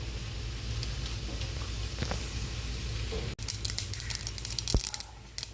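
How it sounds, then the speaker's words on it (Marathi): Mustard seeds with a little cumin popping in hot oil in a kadhai, giving a steady close crackle with scattered sharp pops and a brief louder burst near the end. "राई आपली तडतडी"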